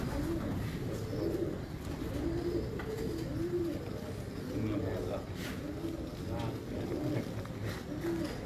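Pigeons coo in a steady, regular rhythm of low, throaty calls close by, repeating throughout over a constant background hum.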